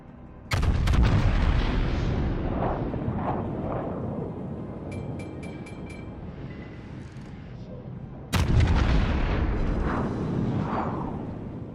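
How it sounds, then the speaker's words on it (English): Heavy battleship main-gun salvos in a naval video game with a Yamato opponent, two loud booming volleys roughly eight seconds apart, each with a long rumbling decay, plus faint game interface chimes between them. "So, first full salvo out on that guy."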